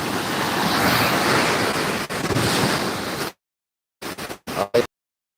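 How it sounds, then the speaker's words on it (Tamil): Ocean waves at Gandhi Beach, Pondicherry, rush in a loud, continuous surf roar mixed with wind buffeting the microphone, then cut off into a few brief gusty bursts. "எந்த அளவுக்கு இப்போ அலை வரப்போகுதுன்னு பார்த்தீங்கன்னா சரியான வேகமாக ஒரு அலை வந்துருக்குது"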